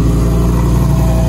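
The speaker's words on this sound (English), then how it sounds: "Also, I'm seeing an aftermarket exhaust." A sports car with a loud aftermarket exhaust drones steadily nearby on a Miami street, a constant throaty engine tone with no break.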